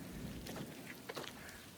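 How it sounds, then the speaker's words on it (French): Faint rain falling, a soft continuous patter with a few scattered drops and light rustles close by. "Ça recommence à pleuvoir"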